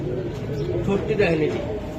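Racing Giribaz pigeons coo softly beneath a man's steady, continuous talking, the calls blending into a busy, close background.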